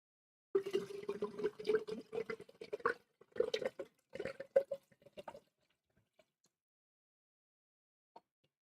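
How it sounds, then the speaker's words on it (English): Water being run into a refillable bottle, a close trickling and splashing stream for about five seconds that cuts off, then a few faint drips in near silence. "I'm gonna refill my water bottle."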